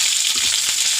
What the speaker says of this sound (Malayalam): വെണ്ടക്കായ വാട്ടാൻ വെച്ചതാ